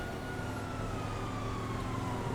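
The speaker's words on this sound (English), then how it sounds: "there's another police car right there" Police car siren wailing in a steady, drawn-out tone from some distance, layered over constant engine and road rumble during a high-speed chase after a runaway truck.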